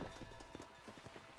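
Horse hooves clip-clopping in the Red Dead Redemption video game, a quick rhythmic series of hoof beats close by over low game ambience, no one talking.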